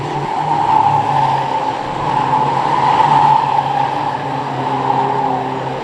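Ministox race cars race at Cowdenbeath Racewall, a constant loud blend of several small engines droning and whining together as they circle the oval.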